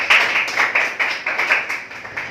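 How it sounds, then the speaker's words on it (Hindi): A classroom audience at an environment day event claps together, a close burst of rhythmic applause with roughly a dozen evenly spaced hand claps over a couple of seconds and no talking. "इसके लिए एक ताली बजाइए।"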